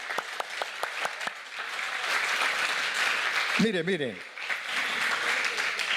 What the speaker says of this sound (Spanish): Dale palmas al Señor, hermano.